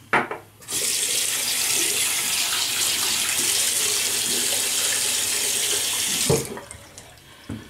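Tap water pours steadily into a shaving bowl being rinsed in a sink, a close, even splashing rush that starts and stops abruptly.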